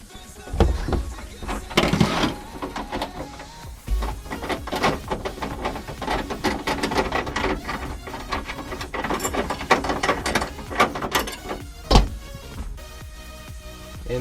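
A ratchet unbolts the rear seat bracket hooks in an FRS/BRZ/GT86, with quick, repeated clicking bursts up close and short pauses between turns.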